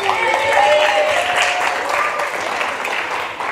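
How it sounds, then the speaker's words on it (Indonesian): Students at a bearing-basics seminar held at a Jakarta vocational school clap steadily and loudly throughout, a dense, continuous patter with voices calling out over it. "Ayo tepuk tangan dulu, tepuk tangan dong."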